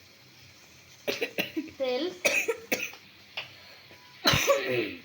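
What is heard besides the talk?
camera operator coughing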